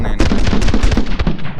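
Rapid gunfire from a shotgun-style weapon in the action game My Friend Pedro, a dense run of loud, close shots firing roughly every tenth of a second with heavy low thumps, no talking over it.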